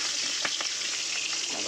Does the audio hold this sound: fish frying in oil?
yes